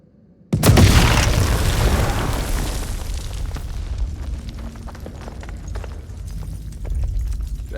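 A big explosion goes off in the video game House of Ashes with a sudden loud boom after a moment of quiet, then a long rumbling decay carrying on to the end.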